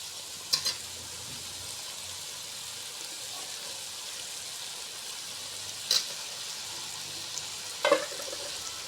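Fried fish tossed into a pan of sizzling oil and stirred, a steady close frying hiss running throughout with a few sharp clatters of the spoon against the pan.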